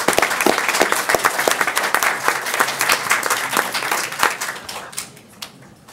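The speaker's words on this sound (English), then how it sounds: "Let's give him a welcoming round of applause." Applause at a city council meeting welcoming a newly appointed finance director, a room of people clapping with crisp individual claps audible, tapering off toward the end.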